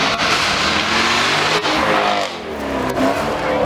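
A supercar at the Beaulieu supercar run revs hard and loud throughout, its engine note rising and falling in a continuous roar, close by and alone with no talking.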